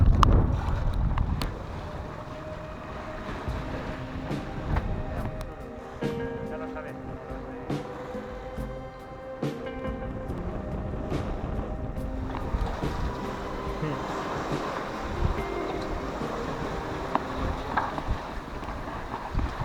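A sailboat crossing open sea from Madeira to Las Palmas at six to seven knots, with steady rushing wind and water noise throughout and a voice talking over it.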